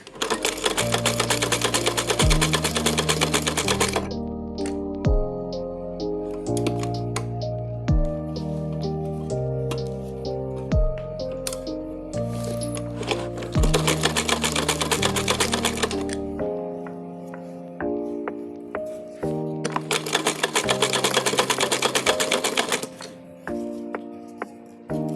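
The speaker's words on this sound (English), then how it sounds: "then it was time to sew the elastic" A sewing machine stitching elastic onto a fairy top made from fabric leftovers runs in loud, steady mechanical bursts, stopping and restarting several times with brief pauses between runs, close up and without talk.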